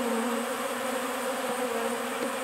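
Honeybees crowd an open feeder of sugar water during a dearth, their steady dense buzzing filling the air close by without pause or voices.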